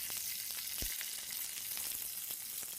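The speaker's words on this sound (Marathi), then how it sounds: "तर मी त्यासाठी शेंगदाणे भाजते." Peanuts roast in a hot pan on the stove, giving a steady close sizzle with scattered small pops and crackles, no voices over it.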